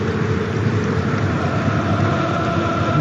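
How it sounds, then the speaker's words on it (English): A continuous low crowd rumble from Tottenham fans at a Premier League football match against Fulham fills the stadium, a dense roar with no distinct voices, steady and fairly loud throughout. "Rumble of noise you can hear is from the Tottenham fans."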